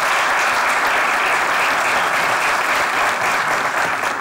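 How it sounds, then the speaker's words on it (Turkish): Loud, close audience applause fills the room during a New Year's special comedy show, a thick steady wall of clapping that holds at the same level from start to finish. "çok büyük alkış teşekkür ediyorum"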